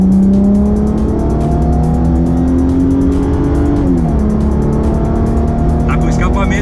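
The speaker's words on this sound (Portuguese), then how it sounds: "Vamos dar uma acelerada?" A 2009 Ford Mustang 45th anniversary edition with a V6 engine and sport exhaust revs steadily, the engine pitch climbing and then dropping, loud and close under continuous talking.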